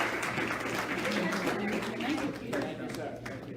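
An audience at a community meeting gives a round of applause for a speaker, a dense wash of clapping under and around a voice talking at the same time.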